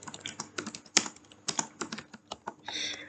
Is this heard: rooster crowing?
no